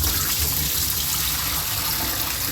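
Rice being washed in water: a steady, loud rush of running, splashing water that fills the whole stretch without a break, close by and with no voices.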